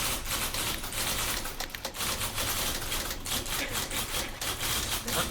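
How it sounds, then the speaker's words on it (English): Many typewriters clatter together in the video game The Beginner's Guide, a dense, continuous rattle of keystrokes and carriage clicks filling the space at steady loudness. "Loads of unmoving typewriters making noise."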